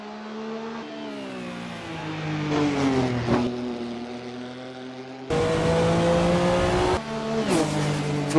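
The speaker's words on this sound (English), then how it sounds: "The iconic Minolta livery shines as it accelerates into the back straight." A Toyota race car in Minolta livery accelerates hard, its engine note climbing through rising harmonics with a gear change and a louder surge midway, loud and close with no talk.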